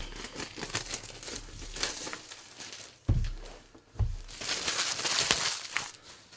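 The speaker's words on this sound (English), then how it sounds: "We've got a little plastic here to open up." Plastic wrapping being opened on a boxed Canvas Reflections game, with close crinkling and tearing throughout, two soft thumps from handling the box midway, and no talk.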